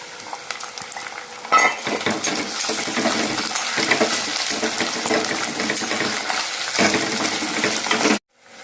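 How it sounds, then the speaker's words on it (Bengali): Chopped tomato hits hot oil with ginger-garlic paste in a pan for Bengali chicken kosha, producing a loud, continuous sizzle with a spoon scraping and clattering as it is stirred, cutting off sharply at the end. "আর এখন এর মধ্যে একটা গোটা কুচিয়ে রাখা টমেটো অ্যাড করে দেবো আমি।"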